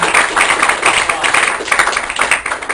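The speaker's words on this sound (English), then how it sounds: "I think we should give him a big round of applause" Comedy club audience applauding a host, dense steady clapping from a crowd filling the whole stretch, loud and close with no clear pauses.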